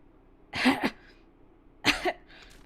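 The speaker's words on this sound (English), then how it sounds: "There were times when I heard Okita hacking his lungs up as he coughed" A character's cough from the visual novel game Hakuoki: two separate harsh, hacking bursts, close and clear, with a short gap between them.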